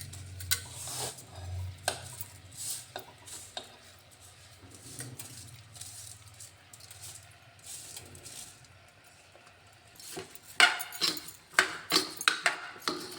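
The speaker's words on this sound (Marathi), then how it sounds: "तांदूळ भाज्या मिक्स करून घ्यायचे आहे" A spoon scrapes and clinks in a pan as soaked rice and vegetables for khichdi are stirred together. The quiet scraping strokes repeat, then grow louder and sharper toward the end.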